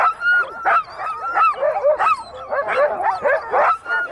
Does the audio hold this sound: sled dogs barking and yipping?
yes